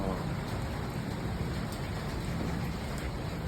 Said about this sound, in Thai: อากาศวันนี้ฝนตกแต่เช้าเลย ชุ่มฉ่ำเลยนะครับฝนตกลงมา